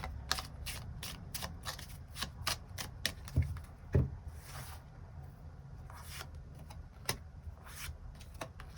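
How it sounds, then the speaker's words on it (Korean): Tarot cards are shuffled by hand in a rapid run of crisp riffling flicks and slaps, close and clear, with brief pauses between bursts and no voice. "6번 분들 추가 카드로 일별로 월요일부터 일요일까지 어떤 일들이 있을지 조금 더 뽑아보도록 하겠습니다"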